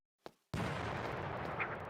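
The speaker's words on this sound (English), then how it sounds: "We do hear explosions in the background" Video-game explosions boom in the background: a short muffled thud, then after a brief silence a sustained dull roar of blasts that stays faint and distant.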